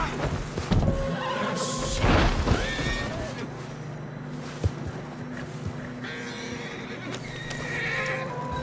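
A horse in the video game Red Dead Redemption 2 whinnies loudly with a shaky, descending call, followed later by another shorter neigh, with hoof clops and wind-like rumble underneath.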